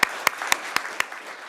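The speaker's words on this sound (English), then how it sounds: "We'll give them a round of applause." A few sharp, evenly spaced claps at a city council meeting honoring employees' service, about five distinct hits a quarter second apart, close and crisp, then trailing off into quiet room tone.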